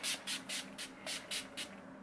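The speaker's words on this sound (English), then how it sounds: "I'll be using my Urban Decay All Nighter Setting Spray" Urban Decay All Nighter setting spray misted onto a face in about seven short, close hissing bursts at an even rhythm, with no talking.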